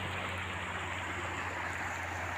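A mountain stream beside a highland road rushes in a steady, dense wash of water, close and unbroken, with no voices over it.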